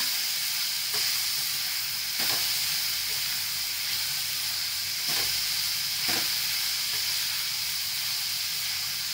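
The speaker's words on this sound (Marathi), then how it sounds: "आता हा कांदा चांगला नरम करून घ्यायचा।" Sliced onions fry over a high flame in a pan for a spicy onion chutney, giving a steady close hiss and sizzle broken by a few sharp spoon taps against the pan.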